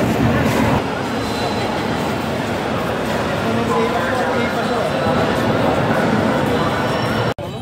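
Busy interior of Rajshahi railway station in Bangladesh, a steady dense wash of station noise with rail rumble and crowd murmur throughout, ending in a sharp click near the end.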